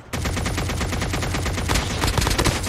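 Rapid automatic gunfire from the mobile battle royale game Call of Duty Mobile, loud, close bursts that run nearly unbroken and grow heavier toward the end.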